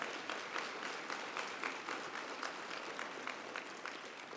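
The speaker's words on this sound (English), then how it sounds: "would you please give them both a big round of applause" An audience at a national adaptation forum gives a sustained round of applause, many hands clapping in a steady, even patter without speech.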